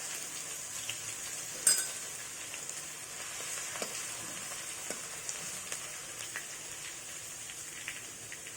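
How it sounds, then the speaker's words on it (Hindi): Garlic paste, from four or five cloves, sizzling and frying in a pan for pav bhaji, a steady close crackling hiss with occasional sharper pops and stirring clicks, no talk. "तो अब हम लहसुन का पेस्ट डाल देते हैं,"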